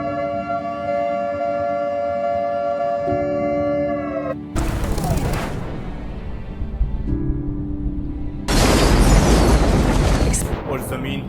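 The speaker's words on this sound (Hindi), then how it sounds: "एक खौफनाक सायरन की आवाज" A wailing air-raid siren sounds over a nuclear-attack scene, its steady rising tone broken by two heavy explosive roars that burst in and fill everything for a couple of seconds each before the siren returns.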